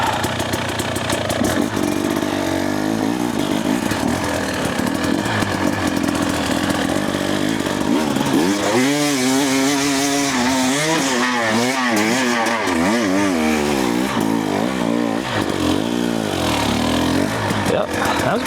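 A Husqvarna TE300 dirt bike engine on a muddy trail, loud and close, blipping and revving repeatedly with rising and falling pitch between rough idle stretches.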